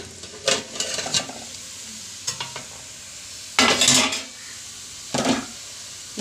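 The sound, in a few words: stirring sprouted green gram stir-fry in pan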